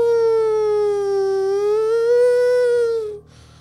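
A human voice imitates an emergency siren with one long, loud, steady wail that rises and falls slightly for about three seconds before cutting off, in the setting of a cinema horror story.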